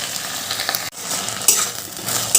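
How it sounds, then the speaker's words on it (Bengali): Jute leaves frying and being stirred in a pan, a steady loud sizzle with scraping stirs and a brief drop partway through. "পাট শাকগুলো দিয়ে দিলাম এবার ভালো করে একটু ভেজে নেব"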